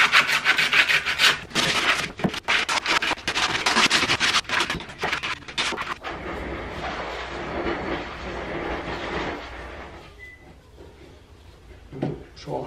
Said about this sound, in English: I've taken a piece of belt sandpaper because it's very, very strong